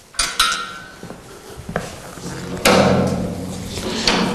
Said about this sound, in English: we're going to close the doors at the front